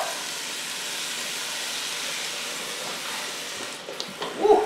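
Tomato puree hits a hot pan of golden onions over medium-high heat, giving a steady, loud sizzling hiss throughout, with a few brief knocks and clatters near the end.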